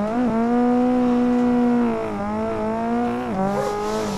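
A car drifting on a mountain touge road with traffic in Assetto Corsa, handbrake and throttle used: a loud engine drone holds at steady high revs with tire squeal, dips briefly, then revs climb again.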